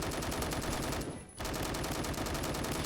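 Rapid automatic fire from a SCAR-H battle rifle in Phantom Forces: dense, continuous bursts of loud, close shots, broken by one short pause before firing resumes at the same steady rhythm.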